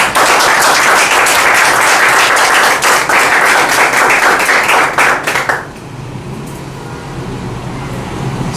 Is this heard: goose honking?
no